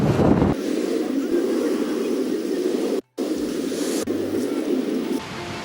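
Strong wind blows across a playground on a late-summer day and buffets the microphone with loud, continuous roaring gusts. The sound cuts out briefly partway through, and a voice can be heard.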